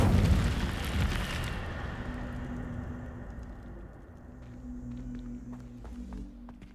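An Incendio fire spell goes off in Hogwarts Legacy, a loud burst of whooshing flame that decays into a rumbling low tail with faint game tones afterward.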